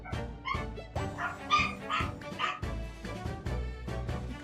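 Several dogs bark and yip in frantic overlapping bursts, close and loud, with a few whimpering yelps mixed in and no talk over them.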